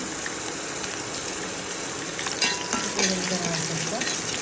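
Ginger and garlic fry in oil in a pan for a colourful vegetable sabji, a steady close hiss and sizzle with a brief stirring scrape partway through.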